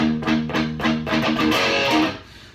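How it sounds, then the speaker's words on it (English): Electric guitar playing the verse riff of a song, with choppy rhythmic palm-muted chugs and short accented chords, loud and close, no voices. "So let's check out the verse riff."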